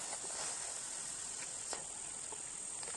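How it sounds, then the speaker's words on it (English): Cicadas on a warm day in the African bush at sunrise, a continuous high, shrill buzzing drone that holds steady throughout, moderately loud with faint background sounds. "as it gets warmer, you might be able to hear the cicadas starting up"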